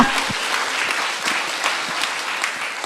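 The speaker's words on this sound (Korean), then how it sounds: "주님께 영광의 박수 돌리겠어요." A church congregation gives a round of applause, steady massed clapping from many hands at moderate volume, continuing evenly without speech.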